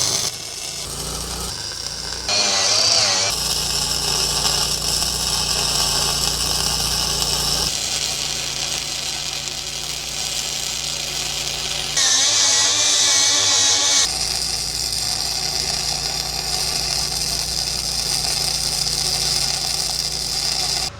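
An arc welder tacks and runs weld passes on a steel boat trailer hanger, a steady loud crackling hiss in long bursts separated by short pauses, with no talking.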